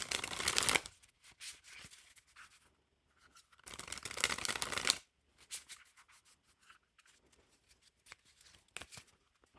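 Reproduction playing cards being shuffled and dribbled, with a few bursts of riffling flutter separated by lighter handling rustles and taps, close and fairly quiet with no talking.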